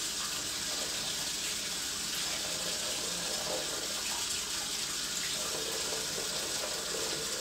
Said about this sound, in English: Let me know if you guys can hear me over the running water.